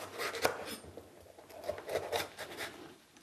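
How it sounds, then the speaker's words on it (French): Knife chopping bell peppers into large chunks on a board for a stir-fry with mixed vegetables and tofu, a quick series of close, crisp cuts at an uneven rhythm with no talking. "Pour les poivrons, nous allons les couper en des morceaux un petit peu plus gros"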